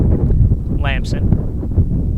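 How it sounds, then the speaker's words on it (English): Outdoor wind in Florida at a preseason soccer match buffets the microphone as a steady, low, rumbling roar that fills the whole stretch, with a brief higher chirp near the middle. "The wind picking up here in Florida."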